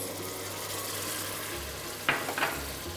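Tomatoes go into a hot pan seasoned with red pepper flakes and fry with a steady close sizzle, while a few brief stirring scrapes rise over it near the end.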